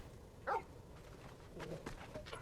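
A dog barks once in Final Fantasy XVI, a short close yelp followed by softer whimpering and rustling sounds, with no talk.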